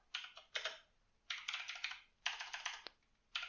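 Quick bursts of clicking keystrokes on a computer keyboard, several short flurries of typing separated by brief pauses, close and fairly quiet.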